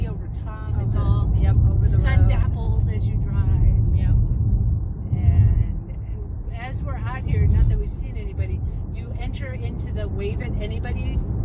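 A car driving along a rougher road under a tree canopy, with a loud steady low rumble of engine and tires heard from inside the cabin while people talk over it.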